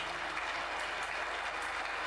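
A church congregation claps together, a steady dense patter of many hands filling the room at moderate level without any voices.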